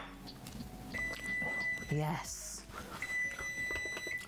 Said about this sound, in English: Sometimes we can't stand the sound of the timer, but in this instance, should be happy.